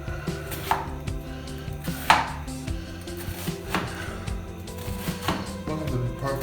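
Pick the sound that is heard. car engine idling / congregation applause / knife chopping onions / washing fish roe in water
knife chopping onions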